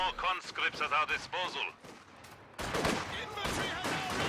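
Sniper fire in a strategy video game: a couple of sharp shot bursts crack out in the latter half, following a stretch of commentator speech.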